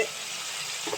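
Cauliflower pieces sizzle in hot oil in a village kitchen, a short, steady, hissing fry at close range.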